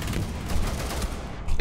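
Gunfire in Rainbow Six Siege: a dense, continuous burst of rapid shots, loud and close, ending in a sharper crack.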